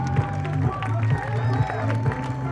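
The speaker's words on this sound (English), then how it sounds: "Crowd gives them a nice hand." A crowd of fans applauds the Ohio Bobcats after a college soccer match, steady clapping running beneath a commentator's voice.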